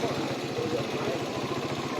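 A motorcycle engine idles nearby in a street outside a church in Daanbantayan, Cebu, after an earthquake, a steady low mechanical chugging that holds for a couple of seconds.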